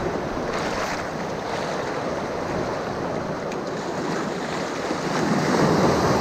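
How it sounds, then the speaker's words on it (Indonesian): Ocean waves at sea heard from a fishing boat out after bluefin trevally, a steady broad rushing wash mixed with wind buffeting the microphone, continuous and fairly loud, building slightly toward the end. "Sekarang ombaknya udah agak besar."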